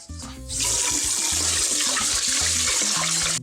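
Water runs from a kitchen tap into a sink while rice is washed, a steady loud gushing stream that starts abruptly after a brief moment of clinking and continues evenly to the end.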